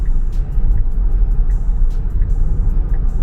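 A Tesla driving on full self-driving, heard from inside the cabin: a steady low road rumble with faint, regular ticking from the turn signal.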